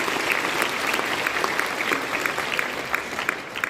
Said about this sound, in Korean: 응원의 박수를